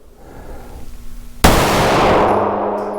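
A SIG Sauer P365 Fuse pistol fires a single sharp, loud shot at a steel target, followed by a long fading ring after a quieter lead-in.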